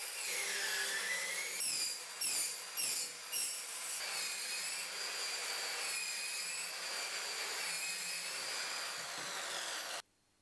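A pipe cutter saw with a TCT blade cutting through pipe, a loud steady whining grind with a few brief stutters near the start, close up, then stopping abruptly at the end.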